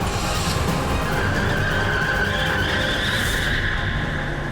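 A truck speeds off with its tires skidding, a steady loud screech of rubber over engine noise that continues without a break and stays close throughout.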